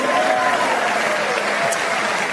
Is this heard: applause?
yes